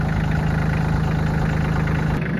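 A tractor engine idles steadily close by with a low, even rumble and a regular throbbing pulse, alone without voices, on a farm field being cleared of lavender plants.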